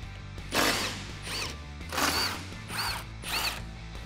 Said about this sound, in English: swing your hinge away to expose the 3 Torx bolts and remove them with a T50 Torx.